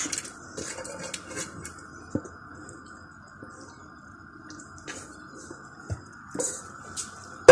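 A chicken breast mixture is poured into a baking tray and spread out, with soft squishing and scattered clinks of a utensil against the metal tray, faint and close in a quiet kitchen.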